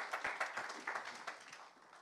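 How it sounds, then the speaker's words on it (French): Applause from a conference audience after a panel on live shopping and retail media, a dense patter of many hands clapping at moderate distance that gradually thins and fades over about two seconds. "on peut à nouveau les applaudir"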